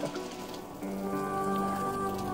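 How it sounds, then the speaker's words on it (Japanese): Rain falls steadily on leaves and surfaces in a mountain forest near Mount Hiuchigatake, a dense continuous patter with scattered closer drops, audible alone at moderate level. "雨だ 雨だ"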